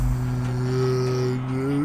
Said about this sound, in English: And now we see the wild goat performing its natural mating call